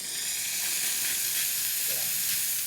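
Steam hisses from a pre-millennium La Pavoni lever espresso machine as pressure is relieved, a steady, loud broadband rush lasting nearly three seconds with no talk.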